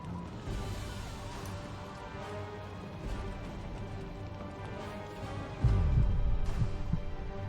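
A loud, steady heartbeat pulses throughout gameplay in The Witcher 2, thudding at a regular rhythm with a heavier thump near the end, set against a low ambient game background.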